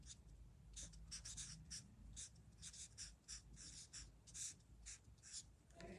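Pen or pencil writing a mother's name on paper, a run of quick scratchy strokes in short bursts, close and clear over a low room hum.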